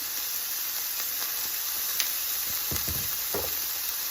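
Pieces of steak sizzling in a hot frying pan, a loud dense continuous hiss with occasional pops and scrape-like stirring sounds, close up and without talk.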